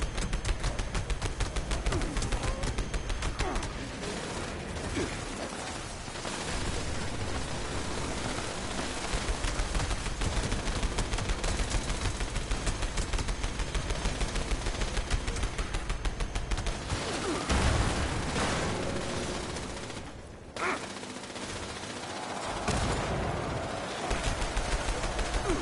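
Video game gunfire rattles on almost without pause, a dense, loud barrage of rapid shots that briefly thins near the end before picking up again.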